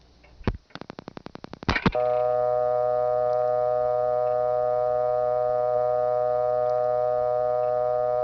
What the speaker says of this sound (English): Another St. Thomas dial tone, and not from New Tripoli.